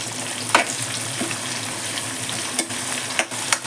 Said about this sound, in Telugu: వీటిని మంచిగా కలుపుకుంటూ వేయించుకోవాలి